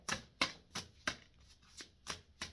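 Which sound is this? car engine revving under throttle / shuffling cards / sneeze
shuffling cards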